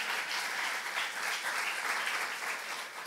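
A church youth congregation applauds during a sermon, steady dense clapping filling the room throughout without a pause.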